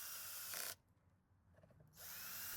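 A power tool driving screws into a Craftsman leaf blower housing, two loud, close whirring bursts of the driver separated by a short quiet pause.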